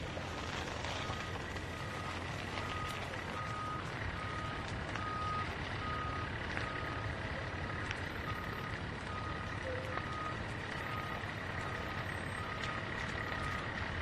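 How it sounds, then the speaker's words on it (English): A truck reverses with steady, repeating backup warning beeps at a wildfire scene in California, heard over continuous engine rumble and broad background noise throughout. "I've got the truck."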